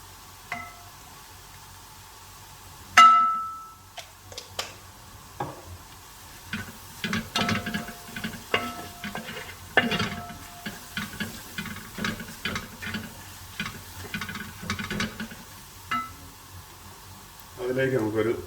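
Duck pepper roast frying in a pan as pepper powder goes in, with scattered clinks and scrapes of stirring over a low sizzle, and a voice talking at times.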